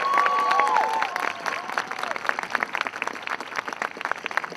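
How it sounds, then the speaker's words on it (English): An audience at a rally to end child sexual exploitation in Atlanta applauds, moderately loud clapping that starts dense and thins into scattered claps toward the end, with faint voices in the crowd. "Give them a round of applause."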